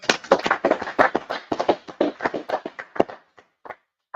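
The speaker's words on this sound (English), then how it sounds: "go ahead and clap it up" A group claps quickly and irregularly at a Purim feast gathering. The sharp, close claps come in a dense burst that thins out toward the end.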